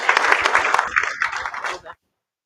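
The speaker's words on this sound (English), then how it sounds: "Let's give one more round of applause to the great Governor Kristi Noem." Dense audience applause for Governor Kristi Noem at a state sovereignty event, steady and loud for about two seconds before cutting off abruptly into silence.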